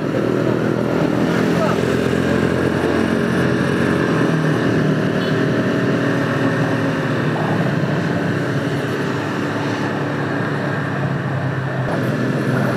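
Motorcycles and cars crowding a hill-climb cycling race course, producing a continuous engine drone and traffic rumble close by, with a commentator talking over it throughout.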